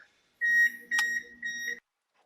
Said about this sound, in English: what's that beeping, son? Is that a microwave?